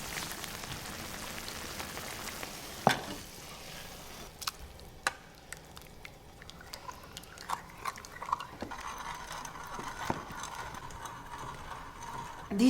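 A hand-cranked food mill strains tomatoes with quiet, irregular clicking and ratcheting and a few sharper knocks over a soft steady background, close by with no voices.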